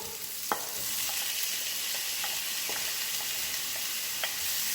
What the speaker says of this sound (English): now we add the peppers, all the mixed peppers to the onion, and I will add the tomatoes also